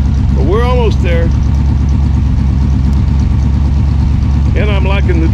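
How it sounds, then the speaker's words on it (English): A 1975 square body 4x4 truck idles with dual exhaust, a loud, steady low rumble with an even pulsing beat, while a voice briefly speaks over it near the start and again near the end. "I brought that idle down a little bit. That sounds better, don't it?"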